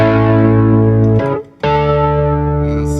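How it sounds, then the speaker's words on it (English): Warm Rhodes electric piano chords shimmer and swirl with a wavering, stereo-panning tremolo and chorus, briefly dropping out before the chord resumes. "between that panning tremolo and the chorus, you get this really nice"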